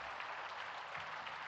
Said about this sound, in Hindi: पुनः तालियों की गड़गड़ाहट के साथ